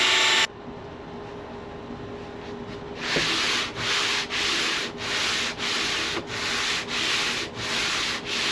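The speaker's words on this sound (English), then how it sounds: "now I'm doing a light sand over the poly." Light hand sanding across a polyurethane-coated wooden game board, a steady run of rhythmic back-and-forth rasping strokes, close and alone after a brief quiet start.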